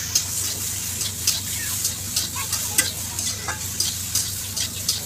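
Shapla water lily stems fried in a pan with ground ginger and cumin, a steady sizzle under repeated spatula scrapes and taps at an irregular rhythm, moderately close.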